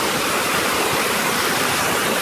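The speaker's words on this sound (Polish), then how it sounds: "Tu się to wszystko przelewa. Przelewa się górą i tworzy ciek wodny" Hot spring water at Benje thermal baths in Albania overflowing and running into a mountain stream, a steady close rushing and splashing with no voices.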